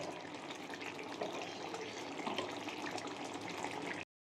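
Water pours steadily as an offering to a household deity, a continuous close splashing gush that runs evenly for about four seconds and then stops abruptly.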